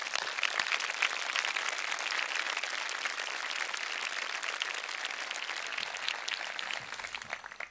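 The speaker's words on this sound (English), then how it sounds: "Dr. Johnson, would you stand up and let us applaud you for your years of faithful service to Cedarville University?" A university audience applauds a long-serving staff member at an address, steady dense clapping filling the room throughout and thinning slightly near the end.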